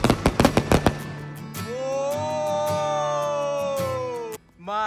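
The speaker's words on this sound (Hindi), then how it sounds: "क्या पटाखा था भाई" Diwali sky shot fireworks: a rapid burst of sharp cracking explosions, then a long rising whistling screech with crackle, ending in a final pop; loud and close, no talk.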